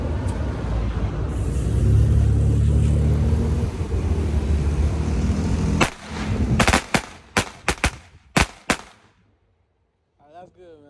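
Firecrackers set off at a workplace pop in a rapid string of sharp, loud bangs after several seconds of engine-like rumble and background noise, with voices nearby and a brief tail of speech at the end.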